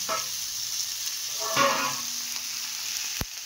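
Capsicum with poppy seed paste frying in a pan, a quiet steady sizzle with a soft stirring swell midway and a sharp knock near the end.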